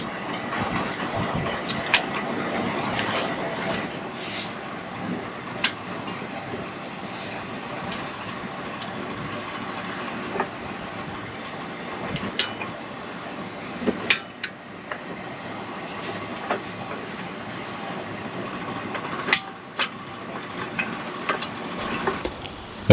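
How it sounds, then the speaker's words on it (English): A continuous mechanical whir and rattle from an old electric fan runs throughout, steady and close, broken by occasional clicks and knocks. "I do apologize for the fan noise"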